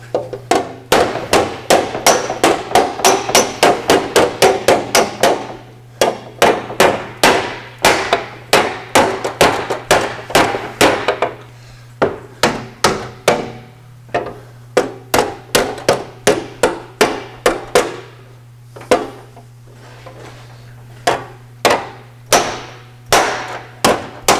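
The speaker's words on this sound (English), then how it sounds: "to sculpt this back into shape, the hammer works the best" Loud, rapid body-hammer blows reshaping the damaged sheet metal around an Austin-Healey 3000 headlight mount, in rhythmic bursts with short pauses, ringing metallic strikes over a constant low hum.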